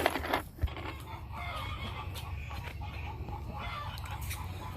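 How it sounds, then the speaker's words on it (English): Chickens on a farm cluck softly while pecking at feed scattered on the ground, with steady low outdoor rumble and a couple of sharper sounds near the start; no one speaks. "you can see that the chickens have found the food that I threw out for the ducks last night"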